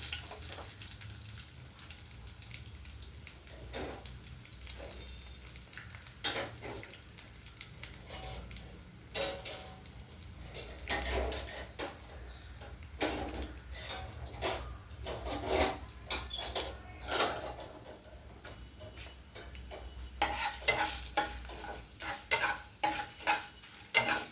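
Slit bottle gourd pieces fry quietly in a pan, a faint low sizzle under repeated scraping and knocking stirs that grow busier toward the end, with no talking.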